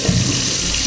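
Tap water gushes steadily into a sink for rinsing a small cut on a hand, a loud continuous splashing rush filling the whole moment with no pause.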